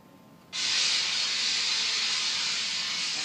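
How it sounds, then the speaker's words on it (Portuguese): A loud, steady hiss of escaping steam bursts on abruptly after a short quiet moment and holds constant to the end, like a pressure cooker venting. "Essa é uma panela de pressão."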